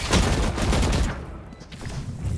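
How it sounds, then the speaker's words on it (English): A swarm grenade goes off in the video game Valorant, a rapid crackling burst of small bangs close by, then fading before another flurry of pops at the end. "That's a swarm grenade."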